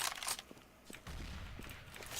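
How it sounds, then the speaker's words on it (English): CS:GO grenade play in a game match: a few sharp, quick bangs and pops, then a low rumbling burst after about a second that lingers, fairly faint overall. "Grenade out."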